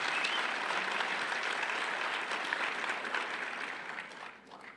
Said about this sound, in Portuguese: queria que vocês aplaudissem os pastores de vocês